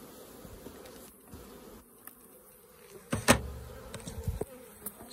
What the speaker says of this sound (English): It's got a nice lot of bees in this colony still.